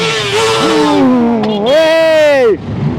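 Motorcycle engines rev loudly and close at the Prvá míľa Liptova 2026 motorcycle gathering, with rising and falling engine pitch sweeps over about three seconds.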